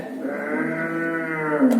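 A water buffalo gives a single long, drawn-out low moo close by in a rural setting, loud and alone.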